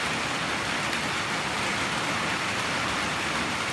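A heavy rain downpour on a cloudy day makes a dense, constant hiss of drops hitting surfaces, loud and steady throughout with no gaps or voices.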